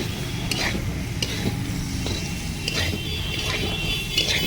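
Food frying in a pan for a fish curry with bori (sun-dried lentil dumplings), a steady sizzle running throughout with occasional scrapes and stirs of a spatula against the pan.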